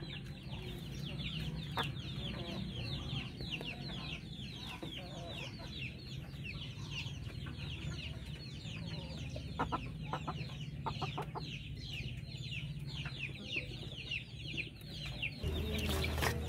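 Native Darag chickens and chicks cluck and peep continuously at close range on a farm, a busy flock chatter of repeated short calls at moderate loudness.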